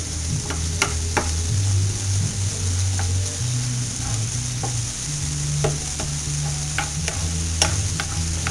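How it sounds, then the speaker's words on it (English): Ground beef browns in a frying pan for a Hamburger Helper meal, giving a steady close sizzle with scattered pops, scraping stirs and low background hum throughout. "this browning is coming along pretty good"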